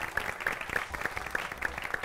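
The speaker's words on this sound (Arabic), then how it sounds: "تصفيق له" A small TV studio audience claps for a magician guest on a talk show, giving steady, moderately quiet applause with a faintly regular rhythm throughout.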